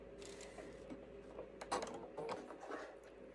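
A sewing machine stitching a fabric mask, a quiet close mechanical whir and clicking of the needle mechanism running in short uneven bursts, with no voices.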